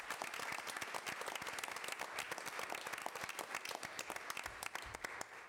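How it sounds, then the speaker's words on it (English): School board meeting audience giving a round of applause for a music educator, steady crisp clapping from a modest room crowd, fairly faint and continuous, with no speech over it. "Let's give him a round of applause."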